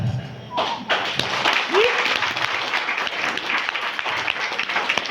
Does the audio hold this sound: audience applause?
yes